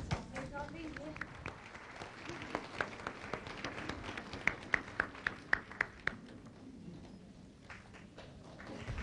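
Audience applause in a hall as a spiritual teacher arrives, a steady patter of clapping with a few sharp nearby claps, under an interpreter's voice.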